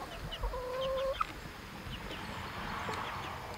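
A chicken in a wood-chip yard gives a drawn-out vocal call followed by a short sharp note, moderately close amid quiet outdoor farm ambience, with no speech.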